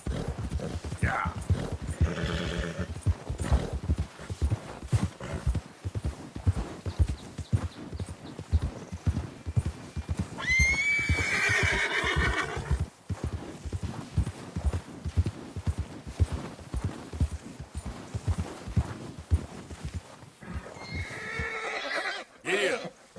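Hooves clip-clop steadily from a horse in Red Dead Redemption 2, with a whinny breaking out midway and another near the end, while a rider speaks softly over the steady hoofbeats.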